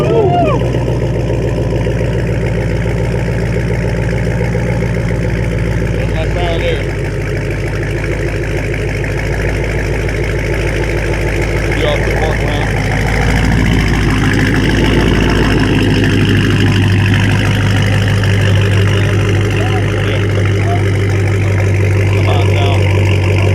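A Dodge Scat Pack with a catback exhaust idles after startup, a loud, steady, close low rumble with clicking valves, holding evenly throughout with brief revs.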